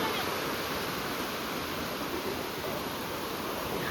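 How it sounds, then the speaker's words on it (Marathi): Sea waves wash onto an uncrowded beach in a steady, loud, broadband roar with no distinct breaks, continuous for the whole stretch. "ह्या लाटा बघा किती छान वाटते"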